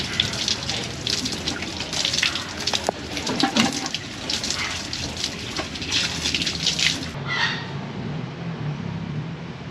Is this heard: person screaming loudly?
no